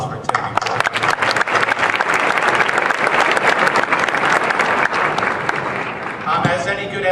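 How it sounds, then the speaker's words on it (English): An audience at an awards event claps in a dense, steady burst of applause, loud and close, with a few murmurs and voices mixed in as it begins to fade near the end. "Another round of applause for Tiffany."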